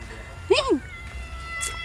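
A single short cat meow rises and falls in the middle, fairly clear and close, over a quiet household background with a faint high chirp near the end.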